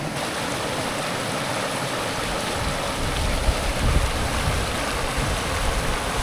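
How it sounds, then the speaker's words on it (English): A small waterfall on the Wellington River near Licola, a steady rushing wash of falling water that stays broad and constant, close by and without speech. "It's a waterfall."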